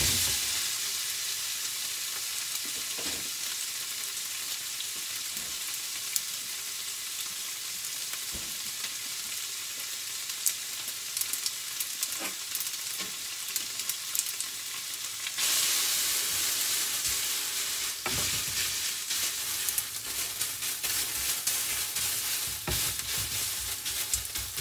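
Konjac spaghetti drying out in a hot pan, a loud continuous frying hiss and sizzle with intermittent stirring scrapes, steady throughout with no voices.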